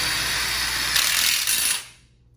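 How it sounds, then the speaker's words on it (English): Impact drill driving a self-tapping hex head screw into thick steel tubing, a sustained whirring grind for about two seconds that stops abruptly. "You have to have an impact drill"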